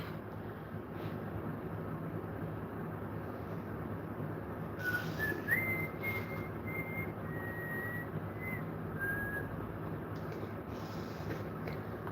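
A person whistles a song quietly over steady wind-like background noise, the faint melodic tones arriving in short phrases partway through.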